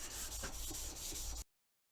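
Wet sandpaper rubs along a steel knife blade in steady back-and-forth strokes, a close, continuous gritty scrape that stops abruptly, followed by silence.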